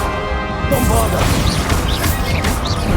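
A Bombarda blasting spell strikes in Hogwarts Legacy, its crashing, smashing burst erupting mid-battle after a voice calls out, with layered impact debris trailing off.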